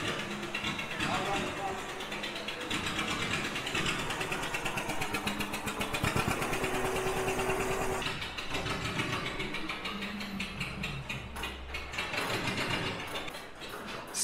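An antique tractor engine chugs and rattles with a rapid steady beat, belt-driving another old tractor to turn it over, mechanical clatter throughout, loud and close, with a voice talking over it.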